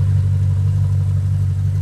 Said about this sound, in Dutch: En produceert een fantastisch geluid. Dat is natuurlijk het leuke van een atmosferische V8.